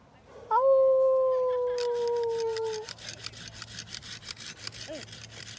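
A small dog gives one long, clear, close howl at a Christmas tree farm, then falls quiet as rhythmic rasping, like a saw cutting a tree, continues faintly behind.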